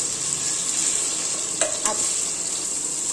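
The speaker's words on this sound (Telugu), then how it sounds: "ఆనియన్స్ ఫ్రై అయినాయి కదా ఇప్పుడు ఒక టమాటా వేస్తున్నాను" Onions and tomato fry in a pan with a continuous bright sizzle, broken by two quick scraping strokes of a utensil near the middle; close and fairly loud, no speech.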